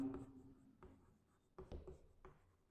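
Pen or chalk writing during a Class 12 maths lesson on matrices, heard as soft, faint scratching strokes in a few separate bursts, close by and quiet, with no talk over it.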